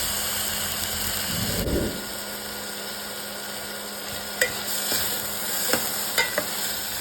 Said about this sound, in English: Now add the tomato and the salt required for the rice.